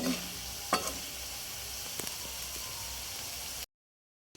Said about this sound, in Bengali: সূর্যমুখী তেলে লবণ দিয়ে হচ্ছে লাল লাল করে ভেজে নিয়েছি